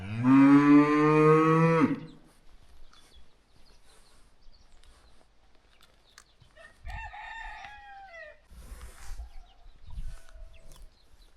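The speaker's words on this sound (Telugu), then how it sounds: "ఇది కజాఖ్స్తాన్ ఆవు." A cow in a Kazakhstan village lets out one long, loud moo up close, followed by quieter rustling and a rooster crowing a little farther off.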